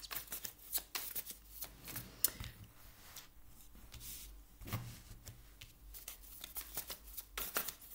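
Tarot cards being shuffled for a reading: close, fairly quiet riffles and soft slaps come in irregular bursts, with short pauses and no talk.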